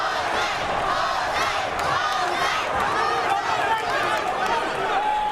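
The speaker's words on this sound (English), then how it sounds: "that's got this crowd going wild" Boxing arena crowd roars wildly after Garcia is dropped by a jab in the Alejandro Garcia vs. Jose Antonio Rivera WBA junior middleweight title fight, a dense, loud, sustained wall of cheering and shouting with a commentator talking over it.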